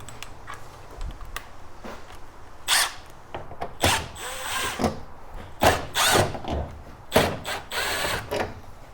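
Power drill backing screws out along the sides of the top cover of a 12V van air conditioner: repeated short whirring bursts with clicks and handling noise between them, close and moderately loud, with no talk.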